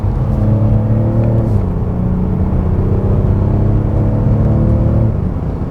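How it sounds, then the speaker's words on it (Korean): A Mercedes-Benz CLS 400d diesel accelerates hard, its engine rumbling and rising in pitch through a quick shift, heard from inside the cabin, loud and steady. "순간적인 가속을 한번 해볼게요"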